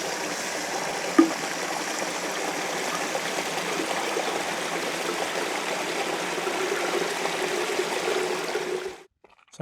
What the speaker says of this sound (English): So I found the most amazing stream back there